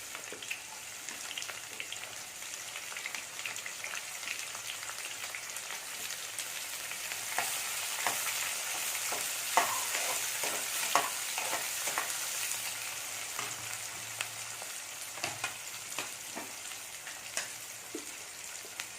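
Chopped onions sizzling and being stirred in oil in a pan for a potato kofta curry, a soft steady crackle with intermittent scraping and clicking of a spoon, fairly quiet and close, with no talking.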